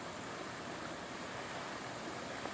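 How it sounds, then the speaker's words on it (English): A babbling brook trickles down a mountain stream in the wooded northern Catskills of New York, a steady, soft rush of running water with no voices. "of water trickling down this stream,"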